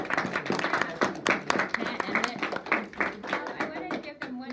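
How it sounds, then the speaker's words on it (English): An audience claps together, a dense run of quick, sharp claps that keeps going steadily from start to finish at moderate loudness. "They clap for me, clap."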